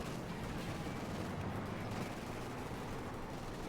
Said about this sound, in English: Machine guns from Street Boy joining in.